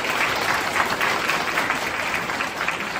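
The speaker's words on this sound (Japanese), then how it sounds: "皆様拍手を持ってランナーにエールをお願いいたします。" Steady applause from a crowd honoring five marathon runners representing Kisarazu at a team send-off ceremony for the Aqua Line Marathon, dense and continuous throughout.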